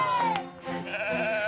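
Sheep bleating as they are chased by people and herded into a pen during an outdoor team challenge, several loud wavering bleats overlapping close by.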